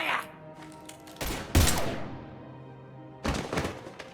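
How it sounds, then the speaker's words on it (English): Gunfire in Mass Effect Legendary Edition: a few sharp, loud shot bursts with ringing tails, separated by quieter gaps, plus faint game ambience. "Now open fire!"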